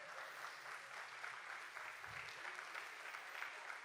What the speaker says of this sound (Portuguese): Palmas para os jovens